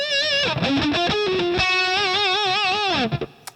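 Electric guitar played through a Revv G20 amp into a 2x12 cabinet with reverb, a distorted sustained chord and single-note line with wide vibrato, loud and alone, ringing out into a short reverb tail.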